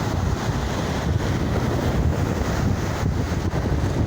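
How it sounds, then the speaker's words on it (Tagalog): Strong typhoon wind roars steadily against the microphone, with the broad wash of ocean surf underneath, in Occidental Mindoro, loud and continuous with no voices. "Sobrang lakas ng hangin."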